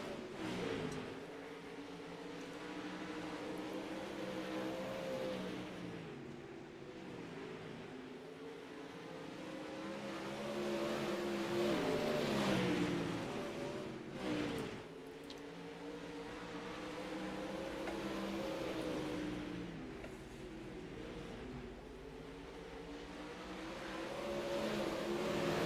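Dirt late model race cars circle the track in a pack, engines droning steadily with rising and falling revs as they pass, a continuous loud roar with no pauses.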